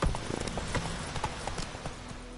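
Geralt's horse Roach trots in The Witcher 3, a quick run of sharp hoof clip-clops at close range, steady and uneven in rhythm, with a low background hum and no talking.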